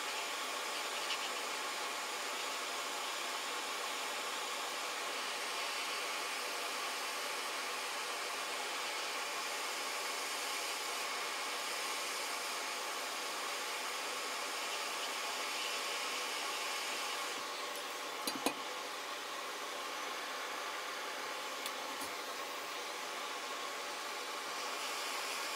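A hot air rework station blows at 450°C with 50% airflow over an Xbox One S board, giving a steady, even rushing hiss that runs unbroken, close and alone.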